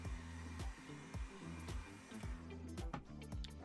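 Heat tool blowing steadily while curling foam pieces for a Mega-Man helmet, a continuous close whirring hum with faint rhythmic ticking over it.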